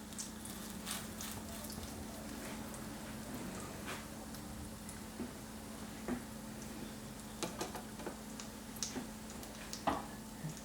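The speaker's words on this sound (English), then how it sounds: "Let that fry up." A Monte Cristo sandwich fries in a pan with a soft, steady sizzle and scattered small pops and crackles, quiet and close, with no talking.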